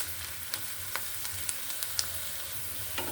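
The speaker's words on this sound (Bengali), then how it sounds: "পেঁয়াজটা আমার ভাজা প্রায় হয়ে গেছে" Chopped onions fry in a pan for a home Bengali recipe, cooked down toward crisp, browned birista style: a soft, steady sizzle with scattered small crackles and pops, fairly quiet and close, with no talking.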